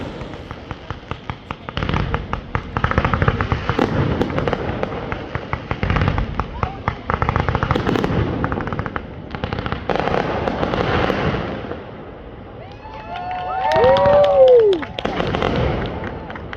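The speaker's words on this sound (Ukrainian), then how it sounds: "40 минут салюта." Continuous crackling and popping fireworks bursting in rapid clusters on Canada Day, loud and dense, with a whistling rocket rising near the end and voices in the crowd along the embankment.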